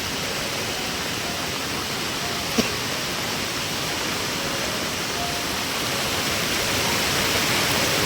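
A river in Konkan, flooded by torrential rain, surges past with a constant, dense roar of rushing water; a single sharp knock stands out briefly near the start.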